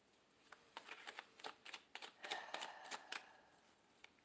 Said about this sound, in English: shuffling you out a card.